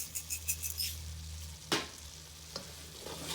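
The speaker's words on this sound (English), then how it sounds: "Just give that a little mix" Stirring in a pan while making Alfredo mac and cheese with pepper and salt, soft scraping and clinking strokes over a low sizzle, with a few sharp utensil knocks against the pan.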